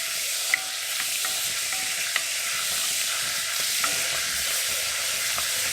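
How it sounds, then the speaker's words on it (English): Two tablespoons of butter melt in a pan that was just used for potatoes, giving a loud, steady sizzling hiss with a few faint pops, close and continuous with no voices. "Here we are, melting down these 2 tablespoons of butter."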